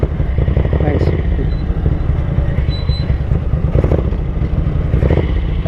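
A Ducati 900SS bevel-drive motorcycle engine idling loud and close, its throttle blipped lightly a few times so the rumble briefly swells before settling back to a steady lumpy idle.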